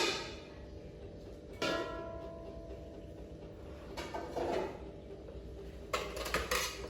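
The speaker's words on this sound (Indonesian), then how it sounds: "kita akan memasukkan alat-alatnya ke dalam kuali" Faint metallic clinks and clatters as small metal medical instruments, including forceps and scissors, are dropped into a pot of boiling water, a few scattered impacts over a low background hum.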